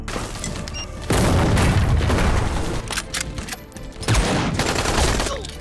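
Bombs explode and guns fire in an action film battle, heavy booms rolling into dense, loud fusillades of gunfire with no talk over them.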